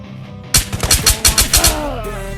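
Rapid automatic gunfire in Ghost of Tabor, about ten sharp close shots in a quick steady burst with kicking recoil, loud and alone, trailing off into a quiet hum.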